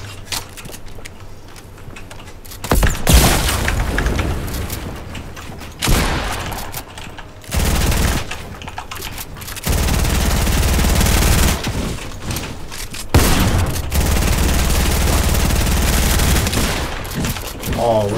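Fortnite gunfire and explosions in loud bursts, rapid automatic fire and booming blasts separated by short pauses, with a player's voice talking in places.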